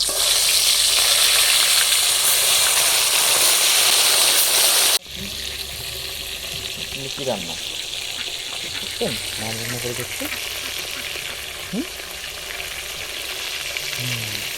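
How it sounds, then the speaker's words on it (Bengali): Bata fish rubbed with salt and turmeric sputters into hot mustard oil with a loud, dense sizzle that drops abruptly to a quieter, steady fry as voices begin talking over it. "তেল গরম হয়ে গেছে মাছগুলো দিয়ে দিচ্ছি"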